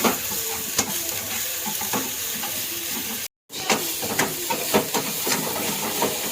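Masala sizzles and crackles in a hot pan as it is stirred and roasted, a steady close frying hiss with scraping stir strokes and a brief gap partway through.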